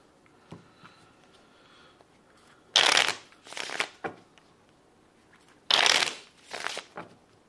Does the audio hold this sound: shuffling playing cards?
yes